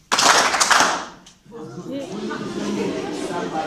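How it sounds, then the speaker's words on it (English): A brief burst of audience clapping in a campus lecture room, loud for about a second before fading, followed by people talking in the room. "A round of applause."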